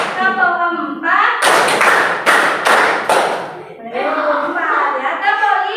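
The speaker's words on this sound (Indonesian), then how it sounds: "Tepuk 1, tepuk 2, tepuk 3, tepuk 4" A group in a classroom session claps in a counted pattern: bursts of sharp, sharply spaced claps in a short rhythmic sequence, framed before and after by an instructor's voice calling out the counts.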